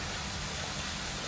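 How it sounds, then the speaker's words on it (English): Light drizzle falls outside a home, heard as a soft, steady, even hiss with no pauses and no voices. "It's drizzling actually. Not raining heavily."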